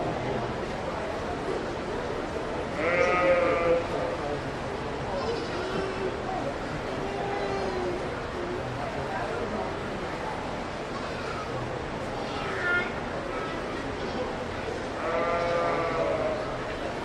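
Dairy goats bleat in a few short, wavering calls at a county fair junior goat show. They stand out over a steady murmur of crowd noise and people talking.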